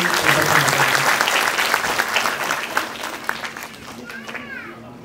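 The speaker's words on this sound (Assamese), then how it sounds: "তেখেতৰ কাৰণে পুনৰবাৰ এজন হাত চাপৰি" A burst of clapping from a theatre audience after a drama performance rises and gradually thins out, with a voice speaking through it and children's voices near the end.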